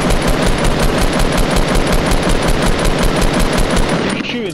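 Rapid automatic gunfire from the Fortnite battle royale video game, a loud, continuous burst of evenly spaced shots that fills nearly the whole clip before stopping abruptly.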